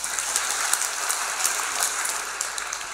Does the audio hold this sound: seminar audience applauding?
yes